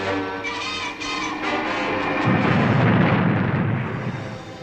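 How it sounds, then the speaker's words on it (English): Missiles strike an enemy craft, and a heavy roaring explosion rumbles as it crashes to the seabed. Brief bursts come first, then a deep, sustained blast swells and slowly fades, loud and close. "it was only a few seconds before the missiles connected with their target, and we watched the enemy crash to the seabed"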